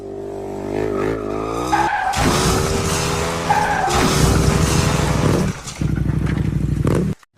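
A car driven fast skids with squealing tires and revving engine, loud and close, under background music, with a brief drop before a final burst.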